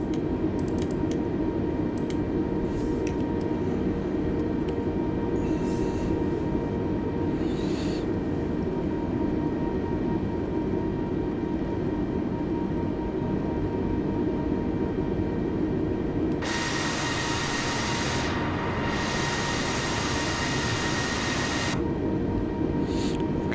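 A Spirit airliner in Microsoft Flight Simulator taking off from runway 31 at Atlantic City: a steady, droning engine roar with tonal whine, swelling into a louder, brighter rush partway through.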